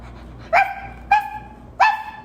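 A woman gives three short, yappy bark imitations, spaced about half a second apart, each a quick pitched yelp with a clipped ending.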